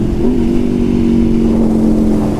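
A 2019 Aprilia RSV4 RR sport motorcycle's engine holds a loud, steady high-rpm drone close by on a ride over hill crests, its pitch climbing slightly and then staying level, with no talk.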